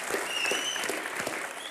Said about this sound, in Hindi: अनिल सर के लिए तालियां होनी चाहिए।